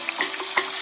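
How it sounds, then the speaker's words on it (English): Water runs from a tap as hands are washed with soap, a steady close splashing stream with small bursts of spatter over under a second. "The nurse advised us to wash our hands with soap and water right away."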